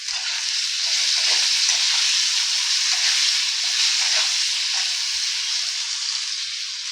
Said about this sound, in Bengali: আলুতে একটু লবণ আর একটু হলুদ দিয়ে ভেজে নেব।